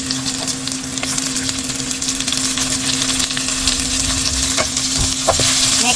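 Garlic and onion sauté in a pan for a curry beef stew, a steady close sizzle with scraping stirs and a constant low hum running beneath it, no voices.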